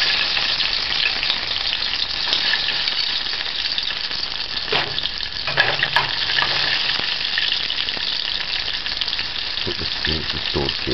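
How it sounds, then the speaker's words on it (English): Sliced onions sautéing in a pan for salt mackerel stew make a steady, loud sizzle that runs unbroken throughout, with occasional stirring scrapes and faint clinks near the end. "add the onions. We're gonna saute it"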